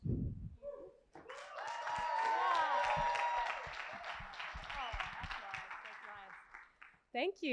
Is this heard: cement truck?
no